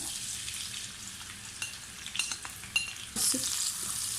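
Onions frying in hot cooking oil in a kadai, a steady close sizzle with a few stirring scrapes and a louder burst of crackle near the end, no voices.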